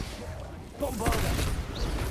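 A Bombarda blasting spell goes off in Hogwarts Legacy. After a quieter stretch it hits as a sudden broadband burst, then a sustained rumbling blast that lingers for over a second.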